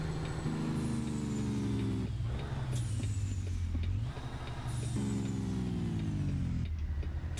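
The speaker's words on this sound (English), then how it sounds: "I'm not sure how good my Jake brake sounds." A truck's engine brake in American Truck Simulator gives a loud, steady low engine drone that drops in pitch, cuts off briefly, then returns, with a sharp hiss of air released between the runs.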